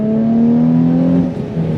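A Nissan 350Z accelerating hard out of a corner, its engine note droning steadily and loud from close inside the cabin, rising slightly in pitch before easing off near the end.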